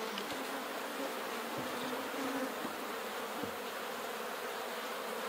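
Steady, dense buzzing of many honey bees swarming around an opened hive, a close continuous drone with a few louder passes near the ear.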